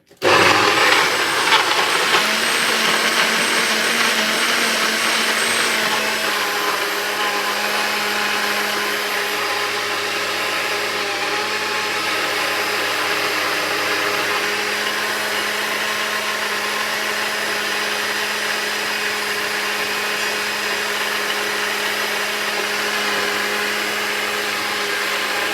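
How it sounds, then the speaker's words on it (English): A blender whirs steadily while crushing beetroot, cucumber, carrot and ginger into juice, loud and close, with a sharp start and a continuous grinding motor drone that settles into an even pitch. "we're gonna go to the blend, and we're gonna make a little bit of a noise."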